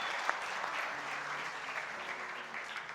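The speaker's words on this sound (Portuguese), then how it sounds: "Vamos aplaudir ao Senhor por essas pessoas, por esse ministério" Church congregation applauding the Lord for a ministry and its people, a steady wash of many hands clapping at moderate distance, sustained throughout with no one speaking.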